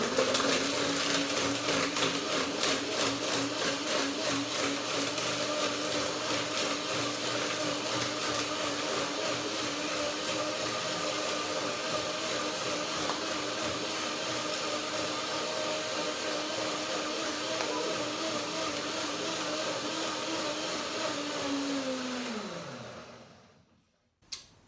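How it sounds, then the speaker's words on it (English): A blender crushing almonds runs steadily at high speed for over twenty seconds with a gritty grinding texture, then winds down to a stop, followed by a small clunk. "That's the first blending to break the almonds down"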